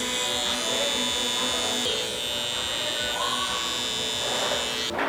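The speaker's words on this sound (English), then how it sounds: "use your fingers to support the T-outliner. Start at the highest point, and slowly work your way around" A T-outliner electric hair trimmer buzzes steadily and close while it works around a client's ear during a tapered haircut, a constant high-pitched motor whine with slight shifts in pitch.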